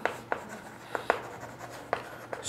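Chalk or marker writes a math lesson on a classroom board in short scratchy strokes with brief pauses, close and alone in a quiet room.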